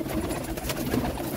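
Pigeons in a loft, a mixed-tail female among red Amritsari birds, giving soft low cooing against steady background murmur and rustling, close by and continuous.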